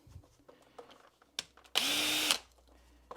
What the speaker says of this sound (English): Remove the screws,